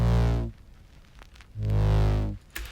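A dry bass synth preset without effects plays two sustained low notes with a quiet pause between them and a short clicky tail at the end, cleaner and softer than a processed version.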